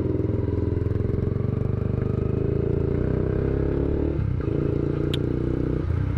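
A Yamaha R15 sport motorcycle engine running steadily at a constant drone, loud and close, with a faint clatter and a couple of small mechanical knocks near the end, no voices.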